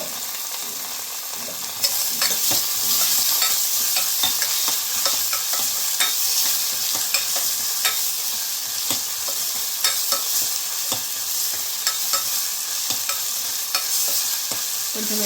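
Ginger garlic paste sizzles and fries steadily in a pan for gonguura mutton, with a spoon stirring and scraping in frequent clicks over the constant hiss. There is no talk.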